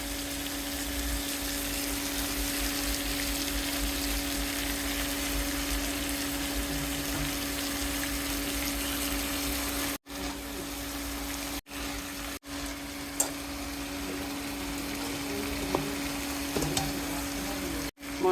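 Small Chandpur hilsa fish frying in a pan, a loud, continuous close sizzle with a steady underlying hum, broken by a few short gaps in the second half.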